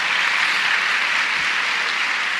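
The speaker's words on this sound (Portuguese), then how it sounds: "vocês aplaudindo essas coisas aí" Audience applause after an art exhibition talk, a dense, steady wash of clapping with no pauses, fairly loud and close throughout, with no voices over it.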